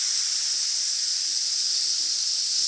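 A steady, sustained voiced S hiss held during a breathing exercise, the air pushed out evenly as the belly draws in; bright, continuous and unbroken for the whole stretch with no speech.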